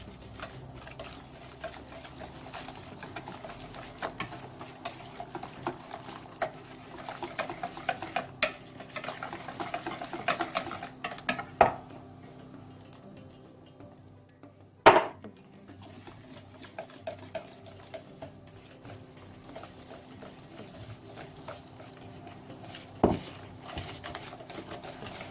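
An electric mixer whirs and clatters in a bowl while blending lahmacun dough ingredients, running fairly quietly with scattered knocks and scraping, a brief pause, and a sharp clack near the middle.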